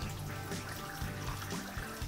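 Water pours steadily from an overflow pipe into a backyard tilapia fish pond, a continuous close rushing and splashing with no voices.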